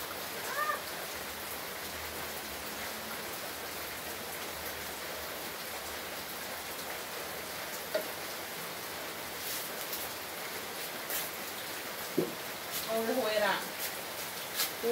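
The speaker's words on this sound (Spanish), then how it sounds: "Nos ama Dios porque todavía nos manda lluvia." Rain falls steadily in a soft, constant hiss across the whole span, with a few brief sharper sounds and some talk near the end.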